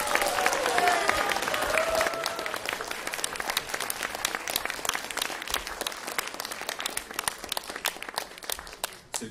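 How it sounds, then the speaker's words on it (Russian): Audience applause at a music festival concert, loud and dense at first, then thinning into scattered claps as it gradually fades. "под ваши аплодисменты."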